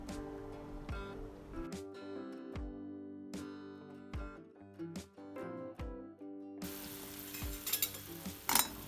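Fresh ginger, fried earlier and set aside, is stirred into bubbling tamarind water as the puli inji thickens, giving a steady sizzle with repeated scraping stir strokes, then a louder, brighter frying hiss near the end.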